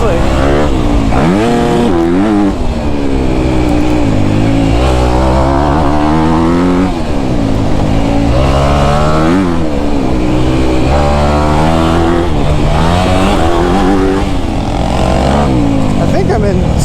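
2024 Honda CRF250R dirt bike engine revving hard while riding, the pitch rising and falling repeatedly through gear changes, loud and close, with a rider's voice talking over it.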